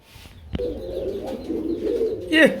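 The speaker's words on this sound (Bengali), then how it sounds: "বড় ভাই খুবই সুন্দর এক জোড়া ঝর্ণা কালার মতো শার্টিং কবুতর রয়েছে" Pigeons coo softly and continuously at a Bangladeshi pigeon market where a pair of shirting-type pigeons is for sale, with a single sharp knock near the start and a brighter flutter or call at the end.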